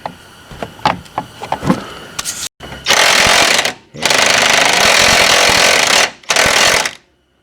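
A power tool, likely an impact wrench, hammers loose a subframe bolt on a 2003–2007 Honda Accord during a power steering rack replacement: a few light clanks, then three loud, close rattling bursts with brief pauses between them.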